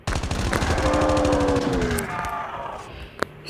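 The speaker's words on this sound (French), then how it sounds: "C'est le lance-roquette que j'ai là." In Call of Duty Mobile, a rocket launcher fires with a loud, dense blast that roars and sweeps through a long whooshing tail for about two seconds, then fades into quieter game sounds with one sharp click near the end.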